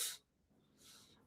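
A single sneeze bursts out sharply at the start, quiet and close, followed by a brief hiss of breath in an otherwise near-silent room.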